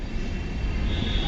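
The empty coaches of the Swarna Jayanti Rajdhani Express roll along under shunting by a WDP4D diesel locomotive near New Delhi railway station, making a loud, steady low rumble and rattle with no break.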